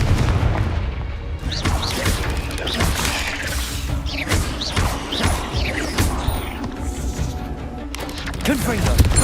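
Confringo spell blasts in Hogwarts Legacy land as repeated booming impacts amid combat clatter, loud and close, while a voice calls out spell names over the action.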